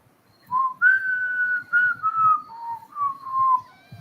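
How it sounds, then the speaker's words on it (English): Someone whistles a short, wavering tune alone, a few sustained notes sliding up and down with faint breathy noise, close up. "I'm so bad at whistling"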